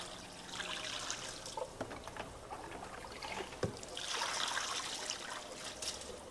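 Water dipped from a pan splashes and trickles over a Sidney lathe gearbox, rinsing off paint stripper in a steady, close wash that swells louder toward the end.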